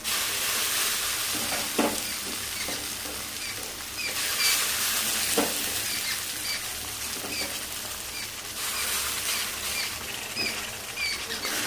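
A spice masala fries with soaked kasuri methi while being stirred, giving a steady close sizzle broken by repeated scraping and patting strokes of the spoon.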